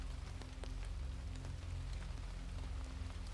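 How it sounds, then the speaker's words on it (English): Steady rain falling, a soft continuous hiss with scattered tapping drops, even and distant-sounding throughout, no voices. "Can you hear the rain?"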